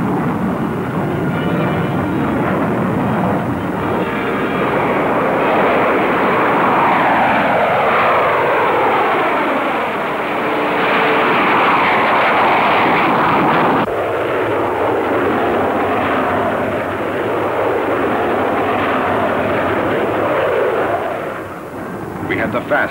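Military fighter jets of tactical air forces roar past in a loud, sustained wash of engine noise with sweeping pitch shifts as they fly by, the rumble continuing throughout and fading slightly at the end.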